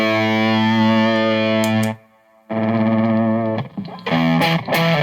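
Electric guitar driven through an Insurrection overdrive pedal running on starved voltage, loud sustained distorted chords with a sputtering, gated decay, a brief near-silent gap, then more gritty strummed chords and choppy notes.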